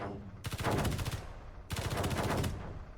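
Two long bursts of rapid automatic weapon fire striking a shielded ship in the video game Space Engineers, loud and close, each lasting under a second with a short gap between.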